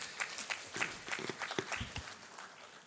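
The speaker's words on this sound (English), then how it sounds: "Give Doc a very big hand clap." Faint applause from a business and investment summit audience, many hands clapping in a soft, uneven patter that carries through the short stretch with no speech.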